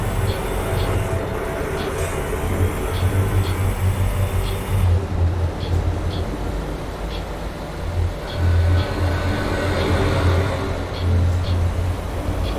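Old-school truck engine in Euro Truck Simulator 2, a loud steady low drone with rhythmic throb and faint periodic ticking, running continuously throughout.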